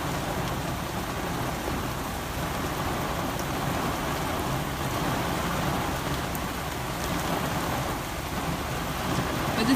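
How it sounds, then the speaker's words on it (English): Heavy rain pours steadily during a storm in Bay Minette, a dense continuous hiss that swells and intensifies close by, with no voices over it. "the rain again picking up here"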